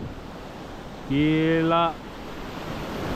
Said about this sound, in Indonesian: Ombaknya cuy.